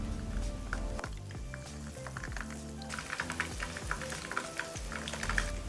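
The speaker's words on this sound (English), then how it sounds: "So just dip the prawns into the frying batter and drop it in the hot oil." Batter-dipped prawns crackle and sizzle steadily in hot oil, with bubbling bursts getting louder as more pieces drop in, close and continuous, no talking.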